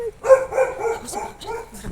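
A dog barks and yips several times in quick succession, close by and fairly loud, with a whimpering edge between barks.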